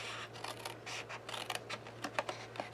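Scissors cut through paper card along a score line, with a string of crisp snipping and scraping strokes, close and fairly quiet over a constant low hum.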